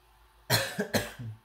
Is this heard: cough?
yes